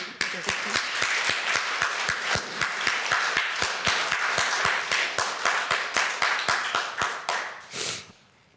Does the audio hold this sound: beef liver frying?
no